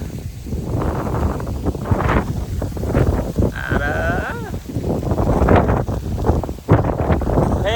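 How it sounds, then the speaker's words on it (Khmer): Strong wind buffeting the microphone while riding a motorbike on a trip out of town, a gusty rumble with cattle mooing and a voice in the background. "ខ្យល់ខ្លាំងមែនតើ"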